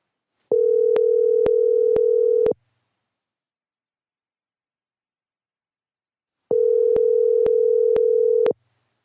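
Two long bursts of a steady electronic telephone ringback tone, each about two seconds, separated by a silent pause, clear and close.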